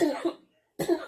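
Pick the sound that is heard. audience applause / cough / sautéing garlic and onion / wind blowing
cough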